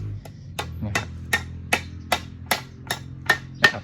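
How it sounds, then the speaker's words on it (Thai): Small nails hammered to fix a broom handle onto a can while making a coconut-frond broom: about nine sharp, evenly spaced hammer blows, close and loud, with no talk. "นะครับก็ใช้ค้อนตอกเลยนะครับ"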